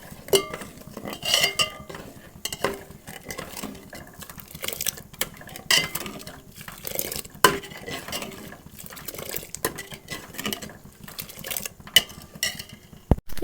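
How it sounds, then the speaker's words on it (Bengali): A spoon stirs sugar into thickened boiled milk in a cooking pot for semai, giving repeated metal scrapes and clinks against the pot, steady and close, with no talking. "চিনিটা দিয়ে ভালো করে নাড়াচাড়া করে নেব।"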